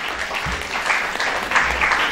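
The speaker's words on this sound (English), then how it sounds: "A huge round of applause, my dear students, for Sir Mr. Ashok Lavasa and Ma'am Novel Lavasa on stage." Students applaud guests taking the stage at a literary fest, a continuous wash of clapping from a large hall audience at moderate volume, with a low rumble underneath.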